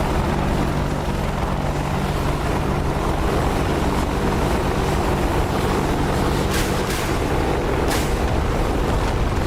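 A Spitfire in the DCS flight simulator starts up and taxis, its propeller engine droning in a loud, steady, rough roar with a few brief rattling bursts toward the end, no voices.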